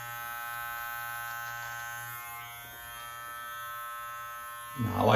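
A Live Bearded MT-1 electric beard trimmer trimming a medium-length beard hums steadily and close for about five seconds, with a louder rustle of handling at the very end.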